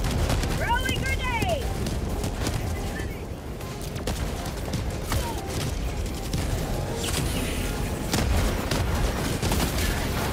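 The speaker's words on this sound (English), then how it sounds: "Throwing grenade!" Helldivers 2 combat with a grenade blast and sustained rapid gunfire, a dense, loud fusillade and booming impacts running throughout, with voices calling out over the din.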